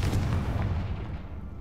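A Confringo fire spell explodes in Hogwarts Legacy, a deep booming blast with a rumbling tail that fades over under two seconds, loud and close with no voices.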